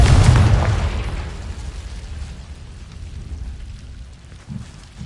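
The Confringo fire spell explodes in Hogwarts Legacy, one loud close boom that rumbles and fades over several seconds.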